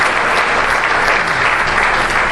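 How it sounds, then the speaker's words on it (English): A crowd applauds a player at a card game event, dense, loud and close, holding at an even level throughout with no talking over it. "give you guys a round of applause once again"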